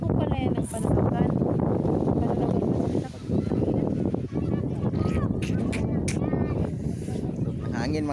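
Strong wind roars and buffets steadily across the microphone outdoors at a beach resort in Catanduanes, Philippines, with voices talking and calling out over it.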